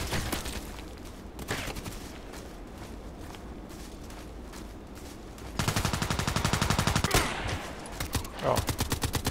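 Rapid automatic weapon fire in the online shooter Contract Wars, scattered shots at first, then a dense, loud burst of rattling rounds and further volleys, with footsteps mixed in.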